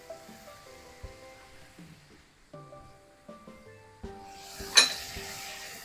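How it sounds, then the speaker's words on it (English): Ground venison browning in a pot for chili, stirred with a utensil: sparse, uneven scrapes and clinks against the pot with a faint sizzle underneath, ending in a louder clatter. "start stirring that around and try to break it down, and we're going to brown it"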